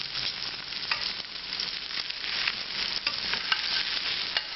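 A ribeye steak searing in butter in a hot pan, a dense continuous sizzle with crackling spatter and occasional utensil scrapes, close and steady throughout with no voices.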